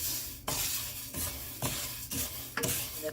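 Black gram (urad dal) roasts dry in a heavy, thick-bottomed flat pan over a low flame. A soft hiss runs underneath as a few loud scraping sweeps of stirring land roughly every half second to second.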